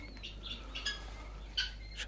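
Quail birds give a few short, faint chirps and tweets, scattered irregularly over a low, constant background hum.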